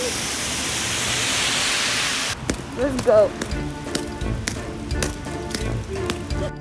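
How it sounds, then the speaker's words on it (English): Heavy rain pours in Hawaii as a loud, steady hiss for about two seconds, then cuts away to a quieter scene where a person speaks briefly amid scattered background sounds. "it starts raining and pouring and thundering."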